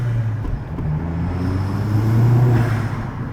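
Vauxhall Astra VXR fitted with an upgraded exhaust, a deep steady engine drone close by that swells slightly toward the end, rumbling alone with no talk.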